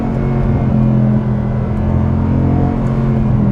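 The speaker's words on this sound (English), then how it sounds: "Those gear shifts." A 6.2-litre V8 in a W204 Mercedes C63 AMG drones loudly and steadily from inside the car, its deep engine tone holding through the gear changes with no talking.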